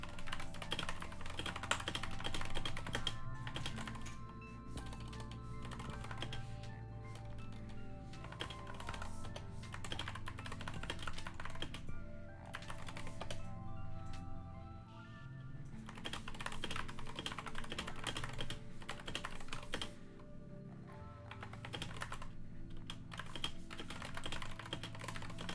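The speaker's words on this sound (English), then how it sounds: "You're gonna hear my keyboard a lot, I'm sorry." Rapid, continuous clatter of computer keyboard typing runs throughout, close and quiet, with brief pauses between bursts of keystrokes over steady background music.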